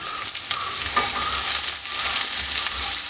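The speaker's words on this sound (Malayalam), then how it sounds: "ഞാനൊരു മീഡിയം സൈസിലുള്ള ഒരു സവോള ഇതേപോലെ കട്ട് ചെയ്തെടുത്തിട്ടുണ്ട് അതിനകത്തേക്ക് ചേർത്ത് വഴറ്റിയെടുക്കാം" A cut medium-sized onion sizzles steadily as it sautés in a pan for a soya chunks roast, with close, continuous frying crackle and occasional stirring scrapes.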